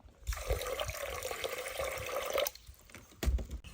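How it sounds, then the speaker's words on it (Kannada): Finger millet (ragi) is washed with water in a kitchen, with running, splashing water for about two seconds, then a pause and a short second splash, close and moderately loud. "ಒಂದು ನಾಲ್ಕು ಸರ್ತಿ ತೊಳಿಬೇಕು ನೀರು ಹಾಕಿ ಒಮ್ಮೆ ನೀರು ತೆಗೆದು ವಾಪಸ್ ವಾಪಸ್ ನೀರು ಹಾಕಿ ತೊಳಿಬೇಕು"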